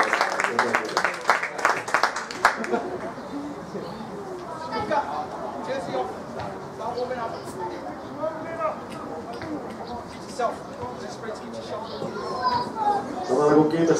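A small crowd at a Linna rugby match applauds player Oskari Tennilä, a short burst of scattered clapping at the start fading out, followed by an announcer talking over outdoor ambience with birds chirping.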